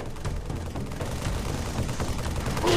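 The Halo assault rifle fires in sustained automatic bursts, a loud, dense rattle of rapid shots that runs continuously through the whole moment without voices.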